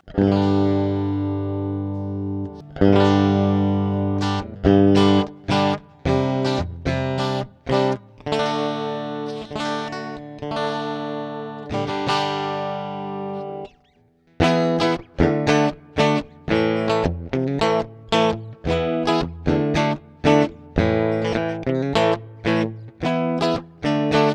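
Clean tones from a homemade Firebird-style electric guitar on the bridge pickup: a series of clear plucked notes and chords, loud and close, with a brief pause midway before the playing resumes with quicker strums.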